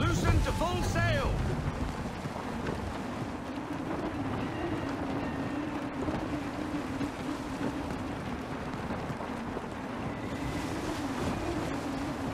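Wind and sea wash around a sailing ship in gusty weather in the video game Assassin's Creed III, a steady broad rush with a low droning hum throughout and voices briefly heard near the start.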